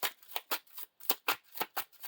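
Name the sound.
shuffling cards back into the encounter deck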